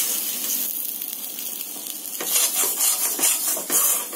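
Potato samosa masala frying in a kadhai, a soft steady sizzle that grows busier partway through with repeated scraping stirs of a spoon against the pan.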